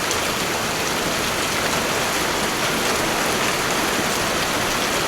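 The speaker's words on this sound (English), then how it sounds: "That little bitty, like pea-size hail. It's bouncing off of the Raptor." Steady dense patter of pea-size hailstones striking a Ford Raptor truck's metal surface, a continuous broadband rattle close by with no voices.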